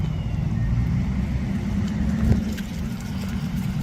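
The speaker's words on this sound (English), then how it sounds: "His car is literally on still." Parked police car left running, a steady low engine idle rumbling close by with little change and a faint voice in the background.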